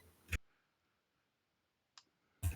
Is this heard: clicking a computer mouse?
yes